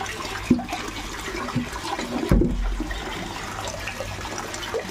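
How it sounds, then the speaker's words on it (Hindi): Water runs and splashes through a large pipe connection outdoors, a steady rushing flow with a couple of louder gushes, heard close with no talking. "जो हमारा ये पानी भर रहा है इधर"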